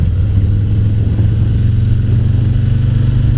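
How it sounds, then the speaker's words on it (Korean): A 2018 Harley-Davidson Fat Boy 114 with a Milwaukee-Eight V-twin idles low and steady at about 850 rpm, a loud, close, even rumbling throb with no revving. "미러키 8 엔진 같은 경우는 850까지 RPM이 떨어집니다"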